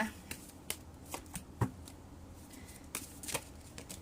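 Tarot cards being shuffled by hand, producing faint, irregular papery flicks and snaps close up, with soft room noise in between.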